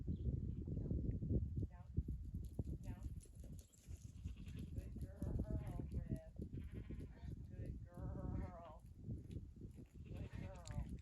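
Sheep bleat several times in a round pen during herding-dog training with a puppy, their calls rising over a handler's steady near talk and soft background movement.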